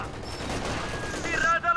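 Rapid bursts of gunfire crackle continuously at moderate volume in Company of Heroes 2, with faint voices underneath.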